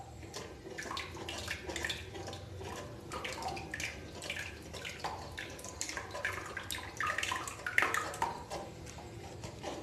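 Rice flour batter is stirred slowly into a pot of jaggery and milk, giving soft wet sloshing and scraping with light clinks of the utensil against the pot, close and continuous.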